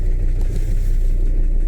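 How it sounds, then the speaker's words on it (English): A big BMW car rolls past close by on a street, its engine a steady low rumble with mild revving that holds level throughout the short stretch. "Yeah, it's a big BMW."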